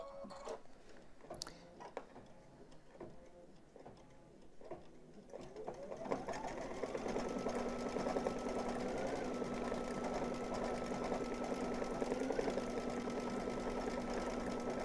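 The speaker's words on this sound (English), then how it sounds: "now it's going to stitch your paw print" An embroidery machine stitches out a paw print on a dog softie, starting with a few clicks and taps, then settling into a steady, rapid mechanical whir with a humming tone.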